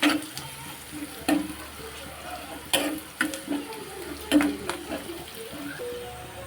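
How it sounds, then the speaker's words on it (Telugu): A spoon stirs turmeric into a tomato egg curry in a pan, giving soft scraping clinks and brief knocks at irregular moments over a low background hiss, fairly faint. "పసుపు వేసి కాస్త కలుపుకొని"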